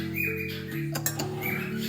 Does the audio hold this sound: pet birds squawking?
yes